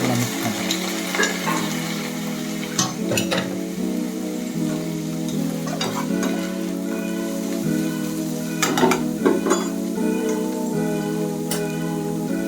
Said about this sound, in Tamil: ஒரு அரை எலுமிச்சம்பழம் இது விட்டுட்டு எல்லாம் மிக்ஸ் பண்ணுறோம்